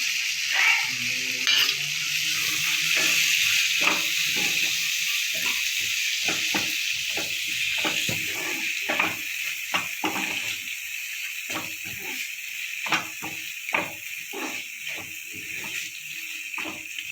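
Washed dried prawns go into a pan of fried tomato. A steady sizzle is heard close up, with scattered crackles and pops running all through.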